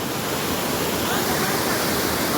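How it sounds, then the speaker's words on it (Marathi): Monsoon waterfall on a hill trek: a steady, dense roar of water rushing down, loud and unbroken throughout with no voices. "तर यात पाणी खाली जातं इथून"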